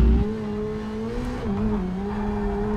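Ferrari SF90 Stradale engine in Project CARS 3, racing at Zolder, revs steadily at high pitch with a brief dip and recovery midway, loud and continuous with faint tire noise.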